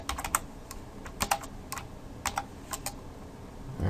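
Steady bursts of typing on a computer keyboard, quick clicky keystrokes arriving in uneven runs with short pauses, close and clear over a faint background hum, no voices.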